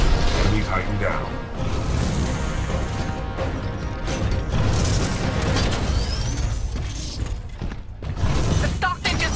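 A Titan in Titanfall 2 fires on an enemy Titan, with heavy mechanical clanks, booms and a crashing explosion dense throughout. A synthetic voice talks over the loud din.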